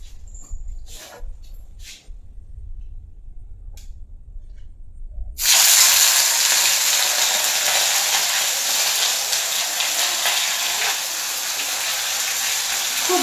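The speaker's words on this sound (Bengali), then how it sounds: "খুব ভয় লাগে মাছ ভাজতে আমার, তেল ছিটকে" Bhetki fish frying in hot oil: after a few quiet seconds of faint clatter, a loud, close spitting hiss bursts in and sizzles steadily to the end.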